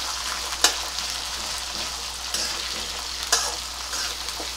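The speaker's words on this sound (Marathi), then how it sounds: "तर कांदा हा तो ना पूर्ण मोकळा झाला पाहिजे, बस तिथपर्यंतच आपल्याला तो परतून घ्यायचा आहे" Sliced onions for dosa bhaji sauté in a pan with a steady, soft sizzle and faint stirring, with a few sharper clinks of a spatula against the pan. No one speaks.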